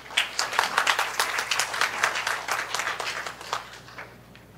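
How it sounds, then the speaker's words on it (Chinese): A conference audience at HITCON CMT 2019 applauds as a speaker is welcomed to the stage. The dense clapping holds steady for several seconds, then thins and fades. "那我们再以最热烈的掌声欢迎兆奇，"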